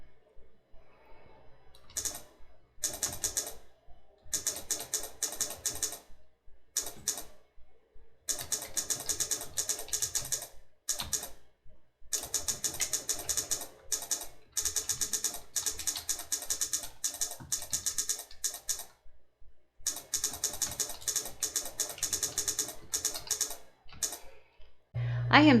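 Fast typing on a computer keyboard clatters in bursts of quick, close clicks, broken by brief pauses.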